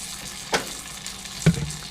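A kokanee fish fillet fries in a pan, a faint steady sizzle broken by two brief clicks as it is handled, close and quiet.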